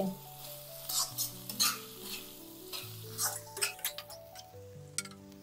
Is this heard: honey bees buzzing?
no